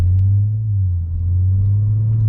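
A deep, steady engine rumble from a BMW M3 Competition with an axle-back exhaust, valves closed, drones close by, a low constant hum with a slight dip midway, heard from inside the car with no talking.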